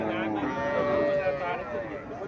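A cow moos in a long, drawn-out call at a busy cattle market in Cumilla, Bangladesh, where cows and calves are being sold, with crowd noise and voices around it.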